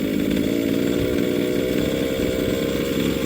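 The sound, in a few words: Fuelie 30cc Walbro 1/5 scale RC engine idling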